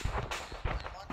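Gunfire in the military video game Arma 3 comes as several loud, rough bursts of shots and booms in quick succession, layered over a dense, noisy battle backdrop.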